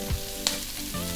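Tofu noodles sizzle in a frying pan as they are stirred, giving a steady frying hiss with a soft scrape of the utensil. A low thump comes near the start and a brief clink follows, with no talking.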